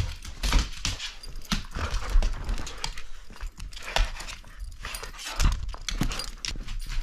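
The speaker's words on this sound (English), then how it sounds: "the dogs are being a little out of control right now" Dogs panting and moving around indoors, close uneven huffs, scuffles and rustling with occasional soft whimpers, no talk.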